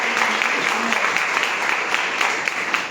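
An audience at a direct selling business seminar applauds in honor of the women, a steady wash of clapping from many hands filling the hall for several seconds.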